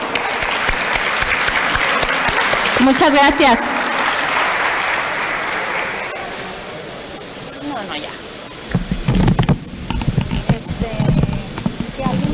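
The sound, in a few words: audience applause for the speakers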